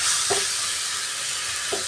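Mango chutney with salt and jaggery stirred in a pan over a steady frying sizzle, with two soft scraping strokes about a second and a half apart and no talking.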